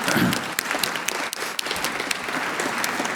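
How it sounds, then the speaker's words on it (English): Debate audience applauding, a brisk, fairly close burst of many hands clapping with sharp individual claps standing out, no speech. "A round of applause for the answer, please"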